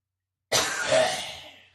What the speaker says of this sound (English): Just let me cough.